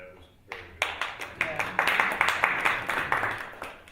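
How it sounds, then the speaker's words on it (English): Audience applause after a live performance, a dense patter of many hands building quickly and holding steady at moderate loudness, with nobody speaking over it. "we should applaud your work"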